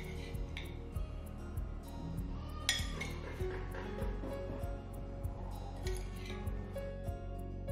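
Steamed purple sweet potato going into a serving dish, with light clinks and taps of utensils against bowl and plate scattered irregularly over a quiet kitchen background.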